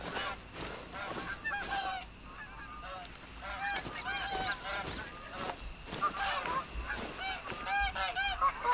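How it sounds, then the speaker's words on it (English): Canada geese honk repeatedly in the dark within the hunting game theHunter: Call of the Wild, a flurry of overlapping nasal calls at moderate distance over faint ambient background, continuing throughout without speech. "The common Canada goose."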